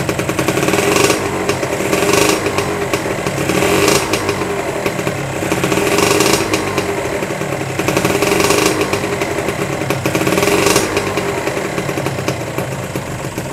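Kawasaki Ninja R 150 motorcycle with a charging-system fault, its engine idling close by with a rough steady drone and brief throttle blips roughly every two to three seconds.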